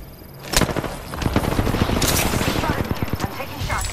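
Rapid gunfire in Apex Legends, dense bursts and sharp cracks running almost continuously, loud and close, with a game voice speaking over the shooting.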